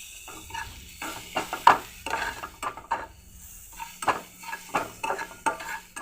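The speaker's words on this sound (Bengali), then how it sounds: "হলুদ লঙ্কা দেওয়া হয়ে গেছে, একটু নেড়ে নিই ভালো করে।" Onions with turmeric and chili being stirred in a pan, a spoon scraping and clinking against the metal in irregular strokes over a soft, low sizzle, close and fairly quiet.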